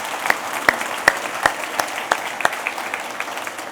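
Audience applause at a lunchtime history lecture, a thin spread of clapping from a modest crowd with a few sharp, distinct claps standing out.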